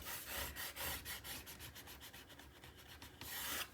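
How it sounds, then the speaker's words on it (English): Paper is burnished onto a scrapbook album cover by hand, a quick series of close, dry rubbing strokes repeating in an even back-and-forth rhythm, with no talk. "Give it a good burnish."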